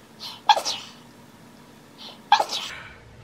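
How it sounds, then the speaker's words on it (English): A woman sneezes twice, close up and loud: each sneeze starts with a quick sharp intake of breath and ends in a forceful burst, with a short pause between the two. "I'm gonna sneeze."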